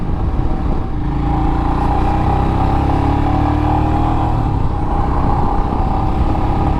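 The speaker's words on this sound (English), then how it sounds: "That exhaust sounds so different." A deep, rumbling Royal Enfield Himalayan motorcycle exhaust, modified with a booster plug and AIS delete, idling and burbling steadily nearby, with a throaty low growl that rises slightly as the throttle is blipped.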